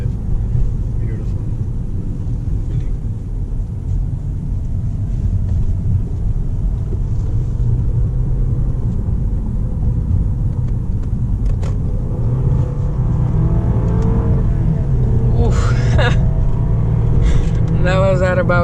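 A turbocharged Lexus GS 200t engine roars loudly and steadily at about 6,000 RPM from inside the cabin, its low rumble building toward the end with faint voices underneath.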